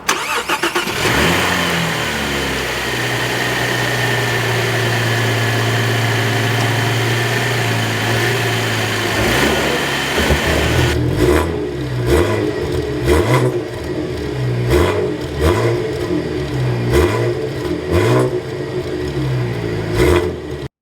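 2024 Cadillac CT4-V Blackwing starting up with a loud, close engine roar that settles into a steady idle, then a series of sharp exhaust revs rising and falling.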